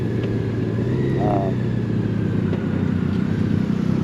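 A 2021 Honda Gold Wing DCT with its 1833cc flat-six engine rides along, giving a steady, continuous engine rumble mixed with road and wind noise.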